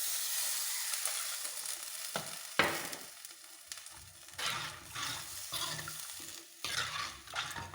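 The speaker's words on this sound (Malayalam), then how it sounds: "ഇനി ഇതിലേക്ക് വെള്ളം ഒഴിക്കാം." Water poured into a pan of frying Kerala-style prawn mappas masala, bringing a hiss and bubbling sizzle with stirring and clinks of a spoon against the pan, steady and close with brief louder bursts.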